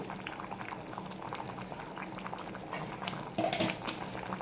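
A pot of tomato dal with turmeric bubbles and simmers steadily, a close, continuous boiling burble with a brief louder splash of bubbling near the end.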